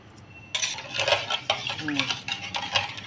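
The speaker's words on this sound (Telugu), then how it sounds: "ఈ బెల్లం కరిగేలాగా మొత్తం కలుపుకోండి" A spoon stirring jaggery and sugar into colostrum milk in a pot, with close, irregular scraping and clinking strokes against the vessel.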